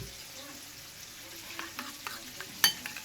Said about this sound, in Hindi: ये देखिए इसको हम अच्छे से मिक्स कर लेते हैं।